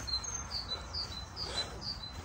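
Birds singing in the countryside in early evening, with repeated high chirps and tweets over a faint steady background. The song is moderately distant and continues throughout without talk.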